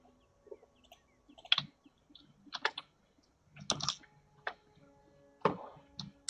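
A computer keyboard is typed on in sparse, irregular clacks. Several sharp keystrokes are separated by pauses of up to a second, close and clear against a quiet background.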